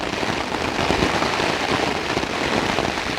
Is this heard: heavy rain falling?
yes